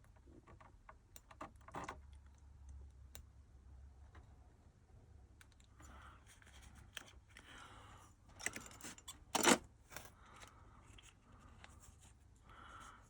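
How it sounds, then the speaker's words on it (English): A blade cutting gently through tape on a small paper packet holding an Accurascale S&DR chaldron coal hopper model wagon: faint close crinkles and soft scratchy cuts, with a brief louder rustle and snip near the end. "it is taped, so I'll just cut through the tape very gently"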